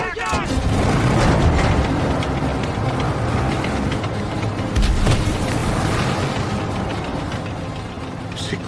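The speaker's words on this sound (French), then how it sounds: "C'était un obus perforant?" A loud, dense boom from an armor-piercing shell in an action film fills the scene, with a sustained rumbling blast that surges again around the middle and stays heavy throughout, with voices mixed in.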